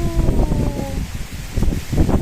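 Gusty wind rustles through the leaves of a cherry tree in uneven surges, a soft rushing noise with brief louder bursts, nearby and continuous.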